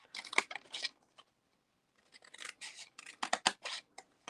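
Scissors snip through paper while making a reinforced treat box, a run of close, crisp cuts, then a short pause and another run of quick snips.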